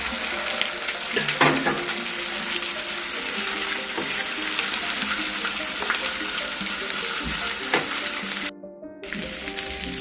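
Curry leaves frying in hot oil for a Kerala fish nirvana dish, a steady loud sizzle with occasional crackles and pops, briefly dropping out near the end.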